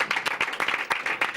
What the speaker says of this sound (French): ça mérite encore quelques applaudissements aux vainqueurs de Paris 3